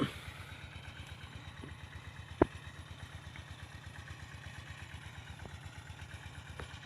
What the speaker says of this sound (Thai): ก็จะเสียงดังหน่อยนะครับ ก็ขอตั้งเครื่องสูบน้ำครับ